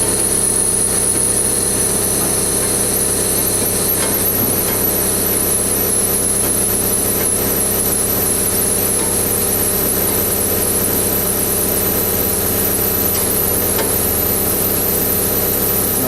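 The engine on a 513TS3 screening plant drones steadily and loud throughout while the overs conveyor unfolds. It is a constant, even mechanical hum with no talking.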